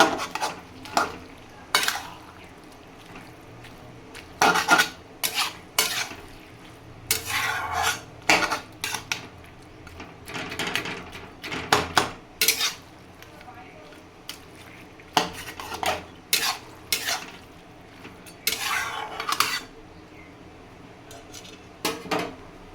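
Fish heads being broken up with a spatula while curry is stirred in a pan, repeated irregular clanks and scrapes of metal against the pan over a faint background sizzle.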